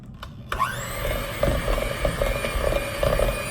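An electric hand mixer whirs steadily at close range, beating an egg into cream cheese for keto pumpkin cheesecake muffins after a couple of brief knocks.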